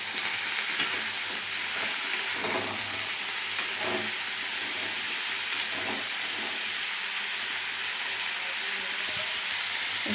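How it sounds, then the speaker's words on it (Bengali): Fish curry with potato and pointed gourd fries in a pan with turmeric, chilli powder and salt, giving a constant close steamy sizzle and hiss with occasional faint stirring scrapes and no talk. "মশলাটা কষানো হয়ে গেছে"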